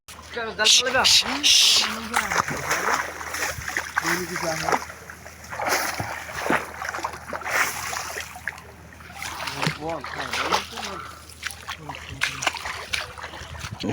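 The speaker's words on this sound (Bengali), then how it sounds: "নৌকায় চললাম" Water splashes and sloshes around a moving boat on a river, with oar strokes, while several people talk loudly over it.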